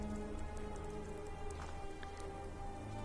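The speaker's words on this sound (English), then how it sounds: "It's warm enough to rain." Steady rain falling in the Skyrim video game, a continuous even hiss of drops on surfaces with a low rumble underneath and no voices.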